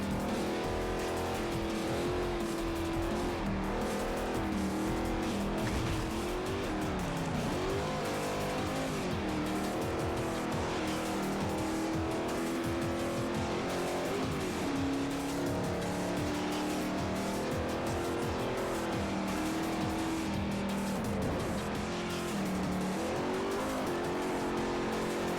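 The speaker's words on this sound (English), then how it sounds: "when I hear the tires screeching" A race car in Forza Motorsport 4 with its engine droning and tires squealing repeatedly as it slides through corners, a continuous loud mix of revving and screeching.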